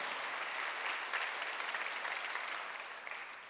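A church congregation claps during a Sunday worship service, a moderately distant, even patter of applause that holds steady for a few seconds before thinning out.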